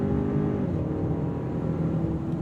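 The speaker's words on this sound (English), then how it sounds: "the engine note isn't rich with character, it's just louder than it was when I was" A 2024 Hyundai Sonata N Line engine drones steadily under acceleration, a loud, continuous low hum with a faintly rising pitch, heard from inside the cabin with no other sounds.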